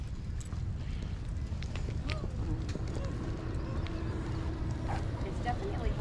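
Horses' hooves clip-clop at a regional park campground in horse country, a steady background rhythm mixed with ambient outdoor noise and some voices.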